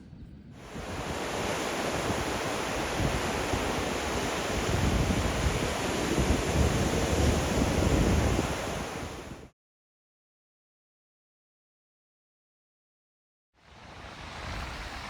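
Surf and wind at Sandwood Bay make a broad, steady roar that fills most of the clip. It cuts out abruptly into about four seconds of silence, then the noise returns.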